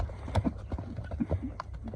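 A horse walks on hard ground, its hooves clip-clopping in a steady, fairly close rhythm of several distinct knocks, with faint background sounds and a little talking.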